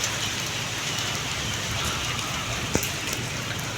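Rain falls steadily in Bangalore, a dense even hiss of drops on surfaces close around, with one sharp knock partway through and no voices.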